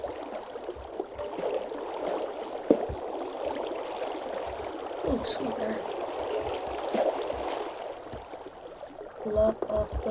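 Flowing water in Minecraft, a steady mid-level rushing wash with a voice talking intermittently over it.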